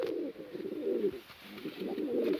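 A domestic pigeon coos close by in a coop in soft, throaty repeated phrases, with a faint steady hiss in the background.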